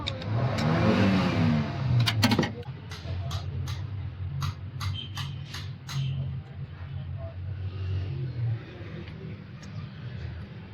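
A Toyota Hilux engine with a stuck fuel injector nozzle runs close by, giving a low steady idle with sharp ticking knocks; someone talks over the opening seconds.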